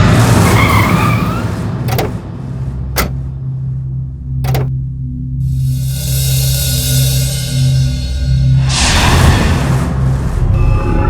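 A car driving fast rumbles low and steady while its tires skid and hiss, broken by a few sharp, brief clicks. The engine drone holds beneath the whole stretch, nearby and fairly loud.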